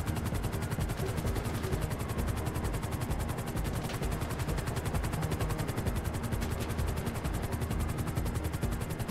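Helicopter rotor thumping steadily throughout with bursts of automatic gunfire layered on top, a dense continuous din of battle during a casino heist in the video game GTA.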